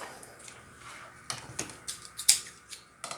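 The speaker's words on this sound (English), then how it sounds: "I brought some scissors." A few quick, crisp snips of scissors, close by, scattered over a few seconds with quiet pauses between cuts.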